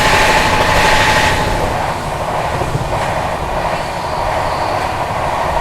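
The 14118 Bhiwani–Prayagraj Kalindi Express passes nearby as a loud, continuous rumble and rush of rolling wagons that eases only slightly over several seconds, with no speech.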